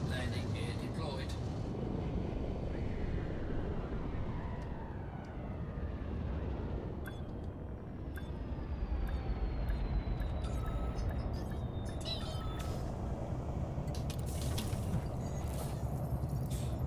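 Spaceship settling onto a station docking pad in Elite Dangerous, a constant low engine rumble and mechanical hum with thin sweeping whines and brief clicks of landing gear and clamps.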